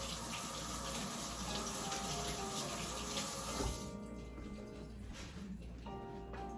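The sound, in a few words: washing hands under running water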